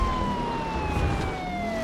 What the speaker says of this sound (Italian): Via sta sirena